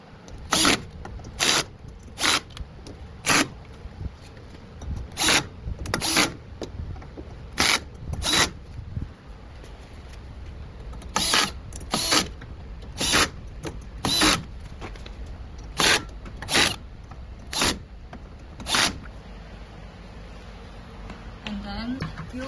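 Spanner tightening screws on a shower cabin base, a series of sharp, brief clicking strokes in irregular clusters, close and clear, with faint background noise between them.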